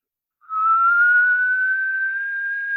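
A voice imitates the electric whistle of a Formula 1 engine, a steady, slowly rising tonal whistle that starts abruptly after a brief silence and holds alone until the end.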